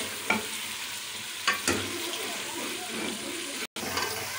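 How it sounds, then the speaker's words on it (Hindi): Potatoes and chicken fry in a pan, oil sizzling steadily up close while a utensil scrapes and stirs in a few brief strokes, with one short cutout near the end. "अभी हम 5 मिनट तक इसकी भुनाई करेंगे।"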